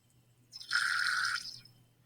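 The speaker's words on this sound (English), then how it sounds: "I'm using this rinse bottle because it allows me to keep really good control over the amount of water that's going in there." Deionized water squirted from a plastic rinse bottle in a chemistry lab, a single hissing spray lasting about a second that fades out, close and alone over a faint hum.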